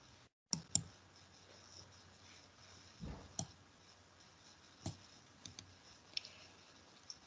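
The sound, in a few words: mouse clicking on a computer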